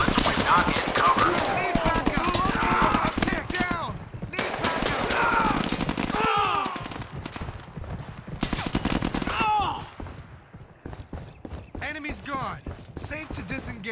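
Rapid automatic gunfire from the VR shooter game Zero Caliber, dense bursts of sharp shots in quick repeated volleys, loud and close, with game voices and chatter over parts of it.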